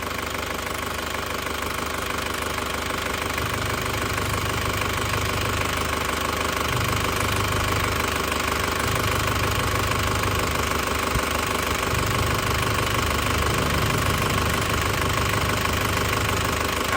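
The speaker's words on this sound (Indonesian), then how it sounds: "Suaranya masih ciri khasnya Panther turbo, Panther mesin turbo yang tahun tua ya, masih ciri khas banget." A 2002 Isuzu Panther LS turbo diesel engine idling while warm, a steady, loud mechanical clatter with a rhythmic knocking that carries on unbroken for the whole stretch, with no voices over it.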